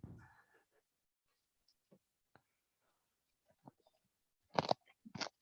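Raw broccoli is bitten and chewed, a scattering of faint crisp clicks giving way to a few louder wet crunches near the end, close to the mouth in otherwise near silence.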